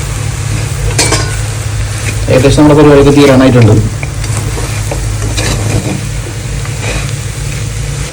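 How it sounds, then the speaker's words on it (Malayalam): Prawns and masala are mixed for a pickle, a moist stirring and squelching close by that runs under someone talking throughout. "ആ മസാലയും ചെമ്മീനും നമ്മൾ നന്നായിട്ടാണ് മിക്സ് ചെയ്ത്"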